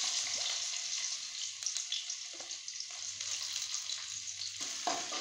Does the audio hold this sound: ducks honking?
no